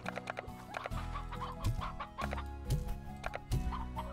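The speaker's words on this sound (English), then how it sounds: "So we'll add those to the chicken's pen." Chickens clucking in the video game Slime Rancher, several short bursts of clucks over a steady low game hum, fairly quiet, with no talk.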